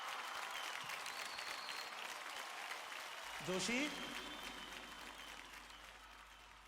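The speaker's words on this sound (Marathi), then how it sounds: "जोरदार टाळ्या." Loud applause from a studio audience on a Marathi TV dance show greets a performing group, dense continuous clapping throughout with a short voice rising over it midway.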